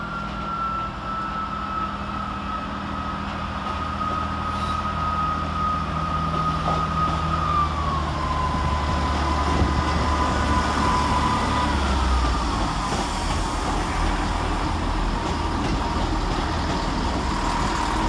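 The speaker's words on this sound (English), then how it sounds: "next out to depart is 158-826 and 158-820, working the 1211 Transport for Wales service from Aberystwyth and Pwllheli to Birmingham International" A Class 158 diesel multiple unit pair on a Transport for Wales service pulls out of Wolverhampton railway station, its engine drone steady and close, with a tone that holds and then steps lower partway through, and no talk.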